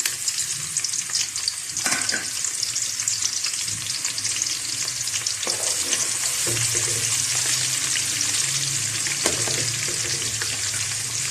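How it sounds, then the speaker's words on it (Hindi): Onions fry in hot ghee in a kadai with a loud, constant sizzle that runs throughout, with occasional stirring clinks and scrapes close by. "मैं इसके अंदर प्याज ऐड करने लगी हूँ"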